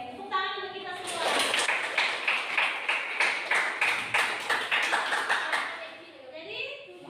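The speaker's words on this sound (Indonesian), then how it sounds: "Oke, tepuk tangan untuk kita semua." Senior high school students applaud together in a classroom during a guidance and counselling session, a steady round of rhythmic clapping lasting several seconds, opened by a voice speaking and fading as talk resumes.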